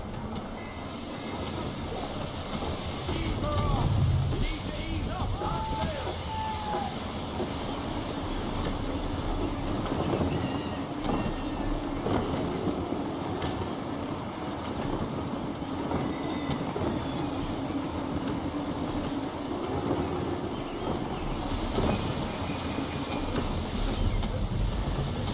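Gusty wind blows while a sailing ship crosses open water in Assassin's Creed III, a steady, loud broadband rush with swelling gusts and surging sea noise lasting throughout.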